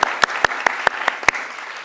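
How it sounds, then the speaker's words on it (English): Audience applause at the close of an academic conference panel presentation on post-revolutionary developments and reforms, heard as a steady run of sharp, evenly spaced claps, fairly close and loud. "let's applaud"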